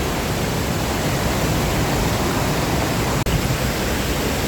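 Water rushes steadily at Haew Suwat waterfall in a national park, a loud, unbroken broadband roar from nearby with a single brief click partway through.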